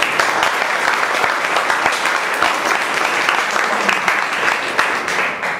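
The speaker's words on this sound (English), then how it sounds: "Let's give them a big round of applause" A round of applause from a Toastmasters meeting audience for the speakers, a steady, dense wash of many hands clapping at even volume for the whole stretch.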